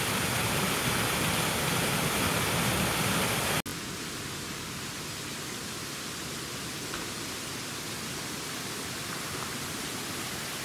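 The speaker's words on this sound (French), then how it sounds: "De l'autre côté, la cascade française." Water pours down the French-style cascade in a château garden, a steady, broad rushing roar. It drops abruptly to a slightly softer, even rush partway through.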